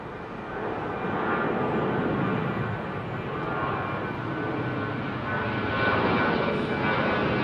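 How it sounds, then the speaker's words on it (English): Airbus A321ceo jet airliner passing at London Heathrow Airport, a loud sustained engine roar that swells and holds steady over several seconds, with no talk. "God, this is an old aeroplane. 321 CEO."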